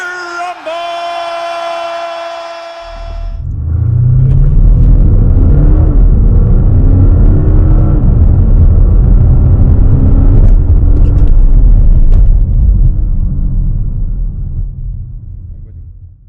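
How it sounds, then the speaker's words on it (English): Audi A6 Allroad 3.0 TDI with a rear sound generator pulls off hard, its deep booming engine rumble rising loud and close for about twelve seconds after a brief tonal whoop and a spoken lead-in at the start. "that was the Audi A6 Allroad on our channel with the sound generator at the back. Sounded awesome"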